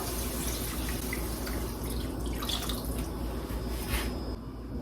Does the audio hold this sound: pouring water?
yes